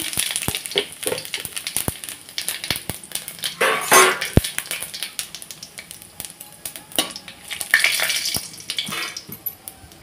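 Whole bay leaf, a dried red chili and cumin seeds crackle in hot oil for tempering ghugni, a close sizzle with sharp pops and clinks, swelling in two louder bursts as the spices hit the pan, no talking.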